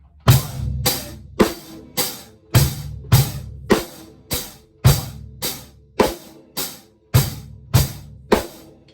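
A basic rock drum beat: steady hi-hat strokes with the snare cracking on beats two and four and kick thumps underneath, an even, close, repeating groove with no voices.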